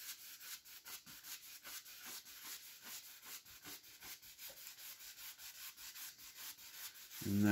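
An oil paint brush rubbed lightly back and forth on canvas to blend, making soft, rhythmic scrubbing strokes about twice per second, close and quiet, with a brief knock at the end.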